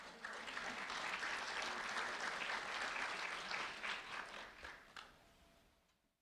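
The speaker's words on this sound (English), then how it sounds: "a round of applause for Connor Fields," Audience applause for Connor Fields, a Cape Coral high school freshman, at a sheriff's office recognition event: steady dense clapping from a room full of people that holds for about five seconds, then thins and fades out.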